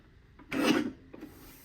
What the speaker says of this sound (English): And then I want you to rotate and then trim at 2 1/2.